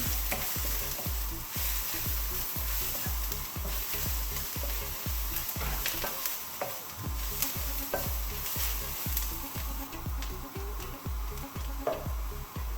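Chicken curry frying in a pan is stirred with a regular scraping rhythm, roughly two strokes a second, over a constant close sizzle, with no voices.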